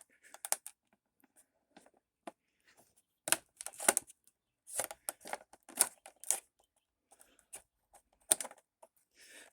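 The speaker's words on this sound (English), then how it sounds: "Let's use my little scalpel here." A small scalpel slices and crinkles through plastic toy packaging for a G.I. Joe Cobra figure, giving sparse, close clicks and scratchy tearing bursts separated by quiet gaps.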